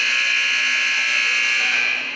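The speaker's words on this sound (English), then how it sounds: "we're going to have a buzzer in 2 seconds" A loud, steady electronic buzzer sounds continuously to end a period at a collegiate roller hockey national championship game, holding its tone before tapering slightly at the end.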